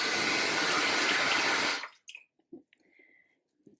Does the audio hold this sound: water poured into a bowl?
yes